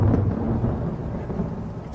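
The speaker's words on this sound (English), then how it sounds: "outside a storm." A thunderstorm rumbles outside, high up: a loud, continuous low roll of thunder that fills the whole two seconds with no voices over it.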